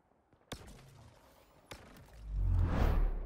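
A sniper weapon in Halo Infinite firing electric bolts: two sharp cracks about a second apart, then a rising whooshing surge that swells loud at the end, with no talk.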